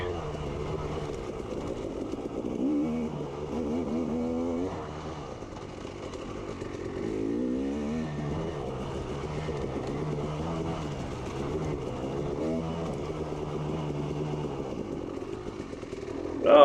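A motocross dirt bike on a race lap of an AMSA Xtreme course, its engine loud and close, revving up and easing off again and again through corners and straights.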